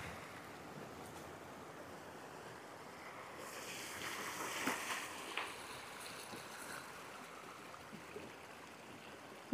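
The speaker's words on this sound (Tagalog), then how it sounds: "Tapos rumaragasa yung tubig sa ilog." Steady rush of river water flowing over small falls fills the clip, a continuous broadband wash that swells slightly in the middle, with no voices.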